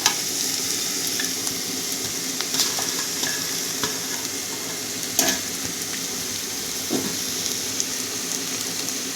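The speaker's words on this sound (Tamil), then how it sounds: "இப்போ வெங்காயம் வதங்கிடுச்சுங்க. இப்போ நம்ம வாழைக்காவை போட்டுடலாம்." Sliced plantain and onion stir-fried in a pan, with a steady broadband sizzle and scattered scraping, clinking stir strokes throughout, close and continuous with no talking.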